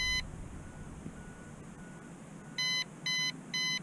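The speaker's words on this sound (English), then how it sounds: "the remote control is beeping" A drone's remote control beeps three times for low battery in short, evenly spaced electronic bursts, preceded by fainter tones over a steady background hum.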